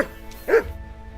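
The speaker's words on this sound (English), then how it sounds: "Good dog, Max." A single sharp dog bark rings out in the medieval video game Kingdom Come: Deliverance II, close and loud, set against a low steady game background.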